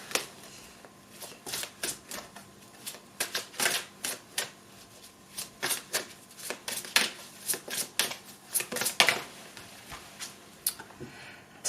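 Oracle cards being shuffled by hand, a close series of crisp riffling bursts and soft slaps repeating irregularly about once a second, with no talking.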